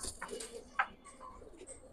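A female pigeon at a bird market gives a short, faint coo, heard once amid quiet background rustle and distant noise.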